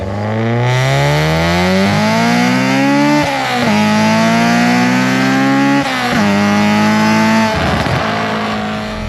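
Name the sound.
Honda Civic EJ9 B18 engine revving toward 9,000 rpm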